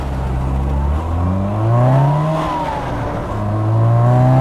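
A 1975 Austin Mini's small engine hums and rises in pitch as it accelerates, drops back, then revs up again, close and steady.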